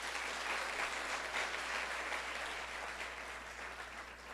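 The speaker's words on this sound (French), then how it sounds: "Je vous demande de les applaudir, s'il vous plaît." Steady audience applause for media partners at the Miss AnayizZ 2013 launch event, a dense even wash of clapping from a crowd that holds throughout and tapers slightly at the end.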